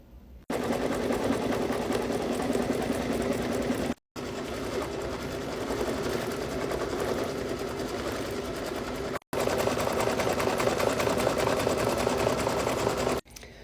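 An embroidery machine sews satin and decorative fill stitches on a beach bag panel made in the hoop, running loud and steady in three long bursts separated by brief pauses.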